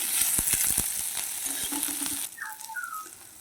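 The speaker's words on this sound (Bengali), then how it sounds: "এরপরে দেবো গোটা কত গোলমরিচ দিয়ে ভালো করে এটাকে আমি ভেজে নেবো একটু" Two medium onions and black peppercorns fry in a pan with garlic, a loud steady sizzle with a few sharp pops and stirring scrapes, dropping to a softer hiss partway through.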